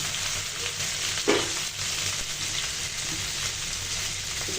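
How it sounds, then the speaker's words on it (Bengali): Okra (bhindi) frying in oil in a pan, a steady close sizzle with a brief louder spit as pieces hit the hot oil, then settling into continuous crackle. "প্যানে তেল দিয়ে দিয়েছি। এখন দিয়ে দিব ভেন্ডিগুলো তেলে ছেড়ে দিব।"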